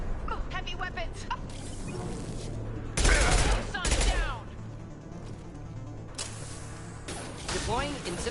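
Heavy weapons gunfire in the Mass Effect 2 video game, with bursts of rapid shots and blasts in several clusters, loud and close, mixed with game effects and a voice calling out.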